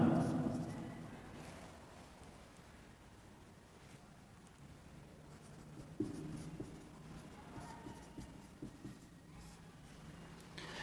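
Chalk or marker writing on a board during a lecture: steady scratching and squeaking strokes under ongoing speech, with a few louder taps as the writing continues.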